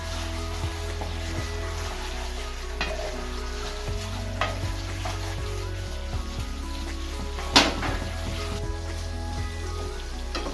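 Veg Manchurian balls sizzle in a hot pan as they are tossed, a steady close frying crackle with a few sharp scraping clatters from the pan.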